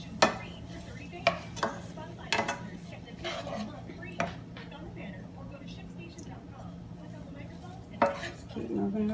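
Onions, garlic, pepper and mushrooms stirred in oil in a pan for a meatless pasta sauce, giving scattered scraping and clinking utensil knocks over a low steady sizzle, with a voice speaking nearby.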